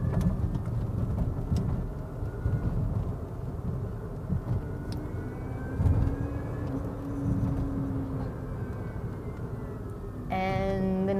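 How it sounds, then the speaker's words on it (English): A Wheego electric two-seater driving in sport mode gives off a steady, fairly loud road and motor drone with a rising whine, heard from inside the cabin. A brief tonal sound arrives near the end. "And the noise level is pretty loud. Kind of worrying for an electric car."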